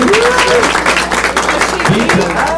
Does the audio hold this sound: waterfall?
no